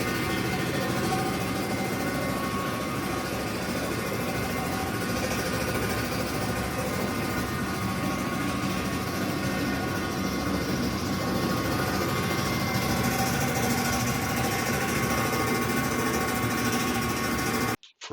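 A Highland Park lapidary slab saw runs steadily through its first cut, a dense, unbroken mechanical whir and hum with a faint rhythmic chatter, loud and close, stopping abruptly at the end.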